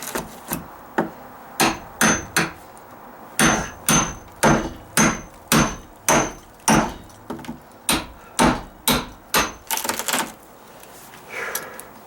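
Repeated sharp cracking blows from a nail puller splitting a dry-rotted wooden stud during deck repair, about a dozen evenly spaced loud impacts close by, ending in a quick flurry of smaller knocks and a brief scrape.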